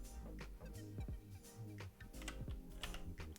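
Fingers type a command on a computer keyboard in a quiet room, a close run of light, uneven key clicks with a few louder taps.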